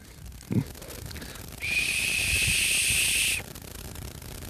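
A handmade ash wood whistle, carved by hand in Lozère, gives one steady, shrill blast of nearly two seconds, loud and close, with a faint earlier thump and quiet room noise on either side.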